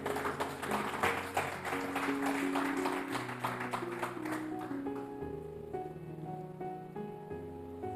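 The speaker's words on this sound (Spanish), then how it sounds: "Dale un aplauso a que vive y reina." A church congregation claps in sustained, dense applause that gradually fades as organ or keyboard chords rise underneath it.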